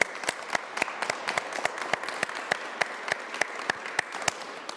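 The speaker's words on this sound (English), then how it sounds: "Please give them a big round of applause." An audience at a business center opening event applauds in a steady, moderately loud round of clapping, with distinct individual claps cutting crisply through the wash.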